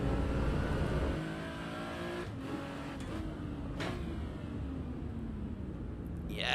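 Lotus Exige V6 Cup sports car in Assetto Corsa EVO, its engine droning steadily at high revs with a brief dip and shifts mid-run, then climbing again, loud and continuous with no talk.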